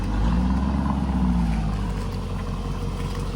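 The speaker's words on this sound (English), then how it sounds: "As the Urus, you can just hear it subtly rumbling." A Lamborghini Urus engine rumbles low and steady, close by, a continuous deep drone with no voices over it.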